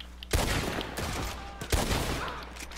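Gunfire in a western video game: a close, loud volley of sharp shots rings out, with heavy bangs at the start and midway and rapid cracks in between.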